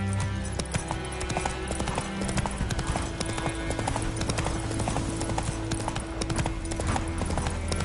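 Roach the horse gallops in The Witcher 3, hooves drumming in a fast, steady clip-clop rhythm close by. An occasional whinny rises over a dense background of game ambience.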